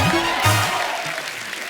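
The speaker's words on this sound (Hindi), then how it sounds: "तबला के लिए जोरदार तालियां हो जाए।" Audience on a Hindi comedy show applauds for a tabla player, a steady broad wash of clapping filling the whole short stretch, fairly loud and close, with brief low voices or cheers cutting through near the start.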